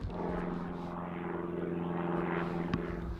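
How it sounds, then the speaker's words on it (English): An airplane, apparently propeller-driven, passes overhead with a steady, moderately loud droning roar that holds throughout, with no voices over it. "Sorry about the airplane."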